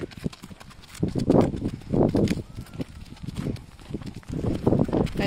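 A pony walks along a path near a lake, its hooves clip-clopping in a steady, close rhythm of uneven steps, with light wind in the background.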